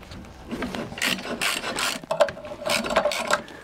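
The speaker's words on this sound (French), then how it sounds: "je dévisse la poulie qui est là" Wrench ratcheting and grinding in short bursts, close-up, as the alternator pulley on a Peugeot 205 TU engine is unscrewed during a cylinder head removal, with scraping metal turns and small clicks and no talk.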